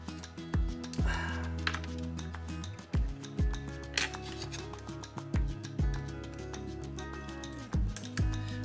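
Small cutters snipping the outside spikes off a 3D printed model train switch tie, a series of sharp close clicks and snaps spaced irregularly over a faint steady background.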